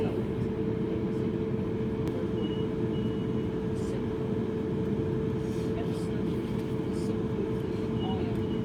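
A passenger train runs between Shawford and Eastleigh, heard from inside the carriage as a steady low rumble and hum of the rails, with faint clicks and a brief chime over the continuous drone.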